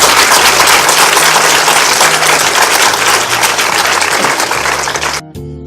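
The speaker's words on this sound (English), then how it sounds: "Put your hands together again for them." Loud, dense applause from a large TV studio audience at the Nigerian quiz show '20 Questions', sustained throughout and cutting off abruptly near the end.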